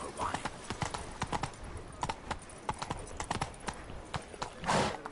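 Horse hooves clip-clop in a rapid galloping rhythm in a video game, with steady close hoofbeats throughout and a brief whoosh near the end.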